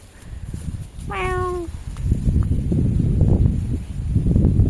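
A single drawn-out cat meow rises clearly over a steady outdoor rumble of wind and rustling, with no voices.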